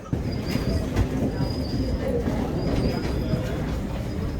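A train rolls along steadily with a low rumbling roar and faint intermittent wheel squeals, heard from inside at close range.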